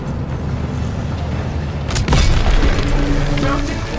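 A heavy tank cannon blast in a Call of Duty WW2 battle, booming loudly at about two seconds over a rumbling combat backdrop, with a deep lingering roar afterward and voices shouting nearby.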